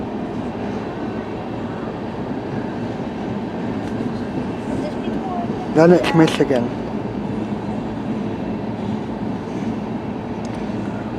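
A CN A482 northbound freight train with coal cars rolls past in Lenox Township, Michigan, a steady loud rumble and wheel clatter throughout, with a brief burst of squealing near the middle and a voice speaking over it.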